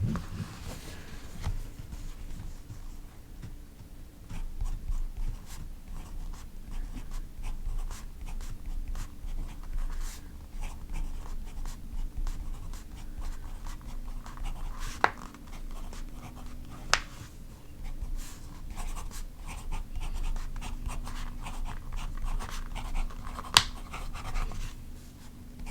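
A fountain pen nib with a wide-stroke grind, inked with Robert Oster ink, scratches across paper in steady close strokes with occasional sharp ticks, set against a faint low background hum.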